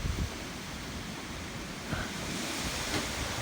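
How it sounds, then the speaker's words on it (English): Strong wind sweeps across an open cattle pasture on a freezing night, a steady broadband roar with gusts that buffet the microphone. No one speaks. "this wind is brutal"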